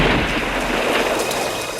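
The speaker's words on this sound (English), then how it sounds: "giving Rambo more than enough time to dramatically pull back and fire" Gunfire from the action film Rambo: First Blood Part II, a loud dense burst of shots and booming blasts filling the whole short moment with no pause.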